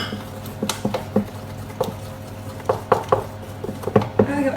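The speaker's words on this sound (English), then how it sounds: "So I'm going to stir in the melted chocolate." A spoon stirs melted chocolate into brownie batter in a bowl, with scattered soft clinks and scrapes against the bowl in an uneven rhythm, fairly close and quiet.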